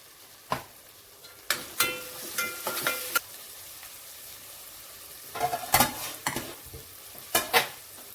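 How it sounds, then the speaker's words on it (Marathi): Grated radish with turmeric, added after softened tomatoes, is stirred and sautéed in a pan, giving soft background sizzle broken by several close, sharp bursts of spoon scraping and stirring in uneven clusters, with no talk. "भाजी ना अशी चांगली परतून घेऊया"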